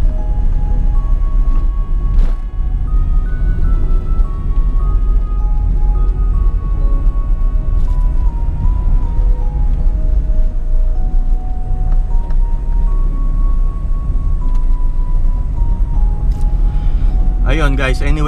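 A Honda Civic EG driving along a road during lockdown, with a steady engine and road rumble filling the whole stretch, tonal whines rising and falling with the engine, and a brief clatter near the end.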